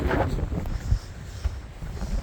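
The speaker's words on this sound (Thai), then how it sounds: "อู้เสียงลมพี่น้องเลย" Strong wind during heavy snowfall in Sweden buffets the microphone in low, irregular gusts and rumbles, with a brief voice near the start.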